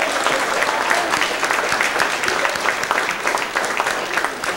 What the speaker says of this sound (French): mais qu'on applaudit très fort.